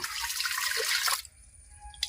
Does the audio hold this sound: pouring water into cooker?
yes